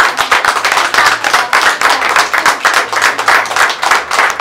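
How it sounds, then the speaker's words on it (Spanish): A small gathering claps for women artisans who make handcrafted jewelry in Oaxaca, a close, lively patter of hands in quick uneven rhythm, fairly loud and continuous throughout. "un aplauso para todas"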